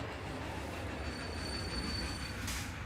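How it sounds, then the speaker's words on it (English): In a video game, a train's wheels squeal on the rails with thin, high metallic tones under a steady rumbling roll, then a brief brighter screech near the end, all fairly quiet. "Where's the train? There he is."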